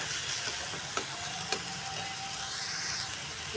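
Cumin and coriander spices sizzle steadily in hot oil in a pan while being stirred, a close, even crackle with a few soft scrapes and knocks of the spoon and no talking.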